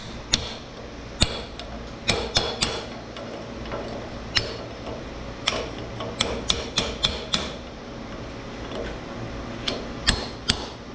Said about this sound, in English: I'm gonna use my chisel and see if I can't clean this up a little bit